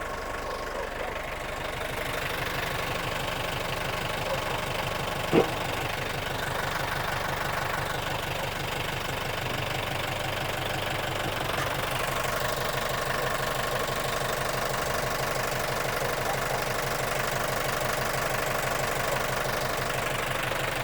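A used farm vehicle's engine idles steadily and close by, with a low, even knocking throb that holds for the whole stretch, broken only by one brief clink partway through.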